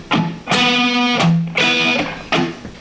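An electric guitar plays a pop-punk riff, ringing chords broken by percussive muted strums on dead strings, in four loud close bursts with short gaps.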